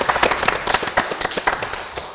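A studio audience at a Kyrgyz television family game show claps, a short, uneven burst of scattered hand claps at moderate loudness that tails off quickly.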